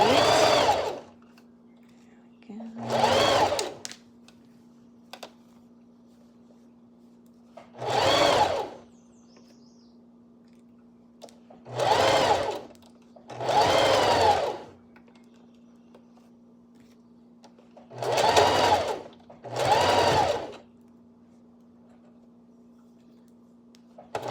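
Sewing machine stitching ruffles onto a sitter dress: six bursts of rapid, loud mechanical whirring separated by pauses, with a steady low motor hum running underneath throughout.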